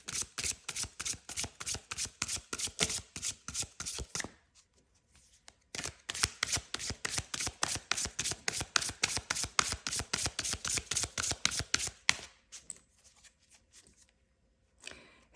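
A tarot deck is shuffled by hand in steady, rapid riffles of crisp card flutters, close and fairly quiet, with a short pause partway through and a few soft handling sounds near the end.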